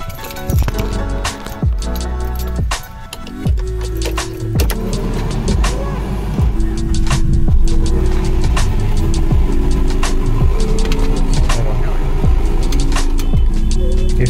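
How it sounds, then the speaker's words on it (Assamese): A Renault Duster diesel car is heard close up as clinks and clicks sound, then the engine starts and settles into a steady low running rumble, with a voice speaking at times. "ষ্টাৰ্ট এবাৰ দেখাই দিওঁ গাড়ীখন।"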